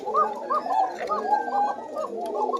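A female pigeon coos softly and repeatedly nearby, a run of low throaty burbling calls with no pauses.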